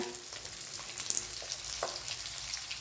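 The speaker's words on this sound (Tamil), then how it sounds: "இது நல்லா நமக்கு வதங்கணுங்க, நல்லா வதக்கிக்கோங்க." Shallots sauté in a pan for Tamil tomato kulambu, giving a continuous close sizzle with scattered crackles and stirring scrapes.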